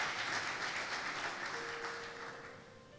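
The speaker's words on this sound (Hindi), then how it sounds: "जोरदार तालियां खुदा के लिए जो आपको बचाता है हर वक्त।" A church congregation claps together in a steady wash of applause that gradually tapers off over a few seconds, with a faint tone sounding underneath.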